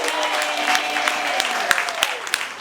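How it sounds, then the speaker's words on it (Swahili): A church congregation clapping, sustained applause with a few sharp individual claps standing out, mixed with a voice and a faint sustained tone underneath, tapering slightly toward the end. "Pigia Yesu makofi."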